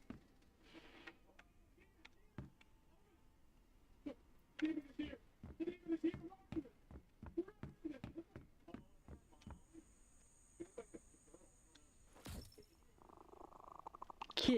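A cat purrs in the video game Undawn in a steady, rhythmic pulse, fairly close, with a brief electronic tone and a rising hum near the end.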